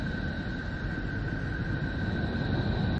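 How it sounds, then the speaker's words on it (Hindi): Voyager recording of Neptune's electromagnetic vibrations converted to sound: a steady, faint, wash-like hiss with a low rumble and a couple of thin sustained tones on top, unchanging throughout. "ये नेपच्यून की आवाज है।"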